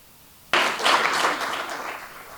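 A room of entrepreneurs at a City of Chicago opening-remarks event breaks into applause that starts abruptly, swells briefly, then tapers off, moderate in volume and short-lived with no voices over it.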